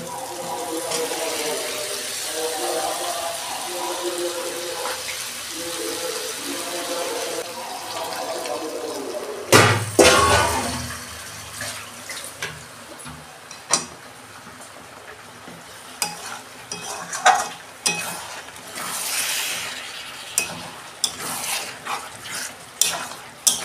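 Chicken pieces tipped into fried spice paste in a pot, a sudden loud splash and burst of sizzling followed by stirring clatters and scraping over a continuing hiss.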